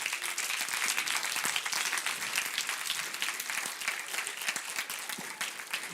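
A conference audience at a social business event claps for the student organizing team, a steady wash of many hands applauding at moderate loudness, easing gradually toward the end with no talking over it.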